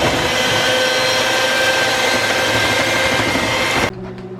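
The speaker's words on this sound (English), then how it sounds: "We don't have one of those, so we're going to try to use a blender." A kitchen blender whirs steadily, blending a buttermilk creamy herb sauce in a home kitchen, loud and continuous for about four seconds before switching off abruptly.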